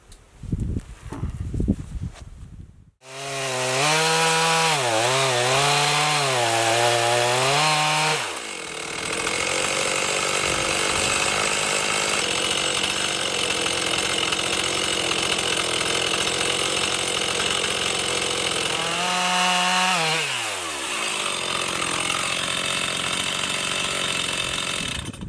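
A chainsaw slices pieces off a blackwood log: the engine revs up hard with a wavering pitch, then settles into a long, loud, steady cut through the wood, eases off briefly and bites again near the end, close and unbroken.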